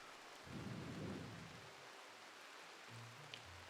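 Rain falls in the video game RimWorld as a soft, steady hiss, with a low rumbling swell partway through and another faint rumble near the end.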